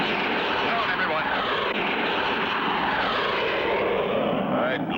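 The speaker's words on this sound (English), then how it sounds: "the black jet suddenly dove at them" A black jet plane dives in an old cartoon, its engine roaring as a loud, continuous rush that holds steady throughout with no break.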